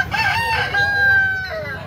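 A black-legged gamecock about a year old crows loudly and close at a market in Carbon, Cebu City, one long sustained call over background crowd noise.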